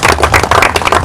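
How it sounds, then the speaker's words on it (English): Audience applause at the Mr. Universe Nigeria pageant, a short, loud burst of dense, rapid clapping close by. "So please give this team a round of applause."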